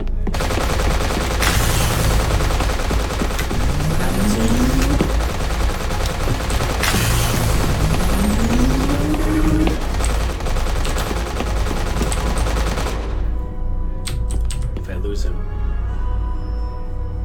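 Enemy gunfire in a video game rattles in rapid automatic bursts, loud and continuous for most of the stretch, with game sound effects layered underneath, then cuts off near the end.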